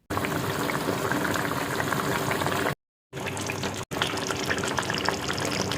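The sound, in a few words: pomfret fish curry simmering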